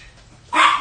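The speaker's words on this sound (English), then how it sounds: "Stop barking." A single sharp dog bark indoors, close and loud, after a brief quiet moment.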